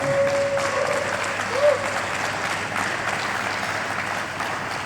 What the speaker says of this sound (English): can we give a round of applause for Alibaba?